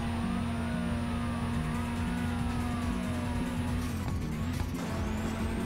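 A car engine drones and revs steadily in an anime JDM racing video game, a constant mid-pitched hum with shifting tones and a brief dip near the end, no talking.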